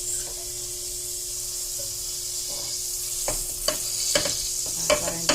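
Oil sizzles steadily in a pan for sautéing tomatoes, and a few sharp utensil scrapes and knocks near the end break through the frying hiss.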